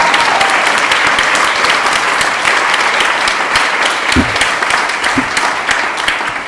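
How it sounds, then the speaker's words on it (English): Loud, sustained applause from a large audience at a convention speech, continuous and even throughout, with a couple of brief thumps partway through. "round of applause for Tom"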